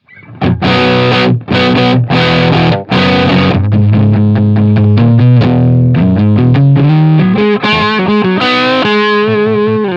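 A distorted electric guitar on its neck pickup plays chords and single notes up close, warm and thick in tone with a sustained, saturated amp sound.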